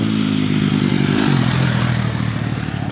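A KTM 250 SXF four-stroke dirt bike on a hard-packed motocross track passes close by, its loud, buzzing, revving engine swelling and then easing away over a few seconds.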